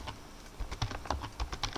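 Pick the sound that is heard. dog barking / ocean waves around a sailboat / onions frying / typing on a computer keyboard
typing on a computer keyboard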